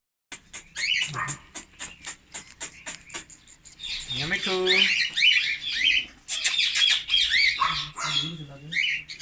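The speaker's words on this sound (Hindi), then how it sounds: "देखना कुत्ता है" A dog barks among squawking African grey and ringneck parrots. The birds' sharp clicks and squawks come first, then come bursts of barking and squawking, with people talking nearby.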